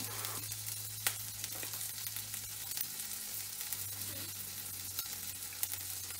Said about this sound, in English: watching a piece of meat cook